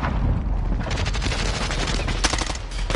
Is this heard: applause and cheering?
no